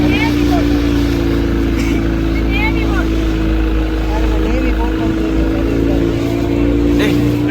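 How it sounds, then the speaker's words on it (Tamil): A navy patrol boat motors past near an island shore at night, its engine a loud, steady, close drone throughout while someone talks over it. "நேவின்ற போட் வருது பாருங்க பாதுகாப்புக்கு"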